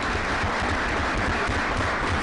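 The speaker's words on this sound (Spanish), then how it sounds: "pues les podemos dar un aplauso a Ana y Criseida" Audience applause at a book presentation on sexual dissidence politics in Latin America, a steady, dense clapping that fills the whole stretch evenly without a break.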